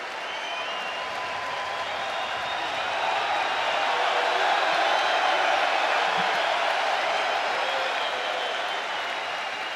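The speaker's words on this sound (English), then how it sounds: "let's have a famous massive round of applause" A crowd at a kickboxing event in Belgrade applauds the fighters after the bout, a steady wall of clapping and crowd noise that swells slightly midway and holds to the end.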